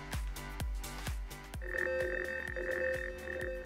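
A cartoon communicator rings with an incoming message, starting as a run of bell-like tones and then changing to a steady, bright warbling ring. It plays close and clear, with no talking.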